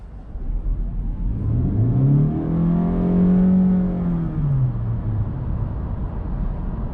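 A 2021 Honda Insight hybrid car accelerates hard, its engine note rising in a smooth sweep, holding high, then dropping away, heard from inside the cabin over steady road noise.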